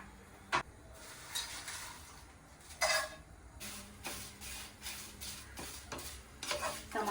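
Whole cloves, black pepper, cumin, poppy seeds and other spices are dry-roasted and stirred in a pan, a soft continuous scraping and rustle with occasional louder scrapes and light taps, close and fairly quiet.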